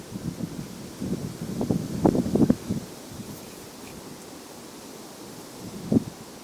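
Strong wind buffets the microphone at a lake during fishing, a steady rushing roar with gusty bursts and faint rustling, no talk.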